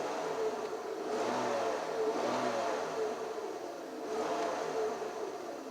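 A truck engine running steadily nearby while its electrical system shows overvoltage from a suspected bad alternator or voltage regulator, a continuous mid-pitched hum with slight swells, and no talking.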